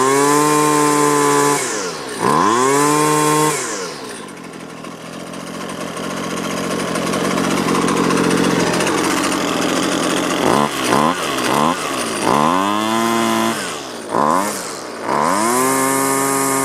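A Husqvarna 128LD string trimmer's two-stroke engine runs close and loud after a broken choke repair. It revs up and down repeatedly, dips to idle in the middle, then gives several sharp throttle blips and more high revs.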